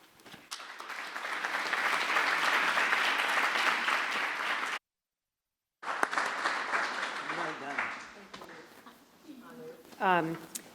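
An audience at the inaugural Global Ambedkar lecture applauds to welcome the speakers: sustained, dense clapping for several seconds, a brief gap, then more clapping tapering off as a voice begins speaking.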